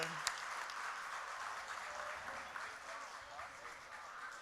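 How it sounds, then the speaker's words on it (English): Audience applause at the 2018 Choctaw Nation Princess Pageant, a steady round of clapping from a crowd in a hall, moderately distant, with a brief sharp knock near the start and faint voices beneath. "Let's give Jordan another round of applause"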